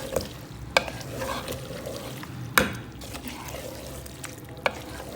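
A spoon stirs gobhi gosht with garam masala in a pot. Soft wet sizzling runs throughout, broken by three sharp clacks against the pot.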